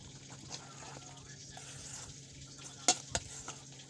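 Eggplant omelette mixture with sardines is stirred and cooked, giving a soft, steady scraping and faint sizzle throughout, with two brief sharper clinks near the end.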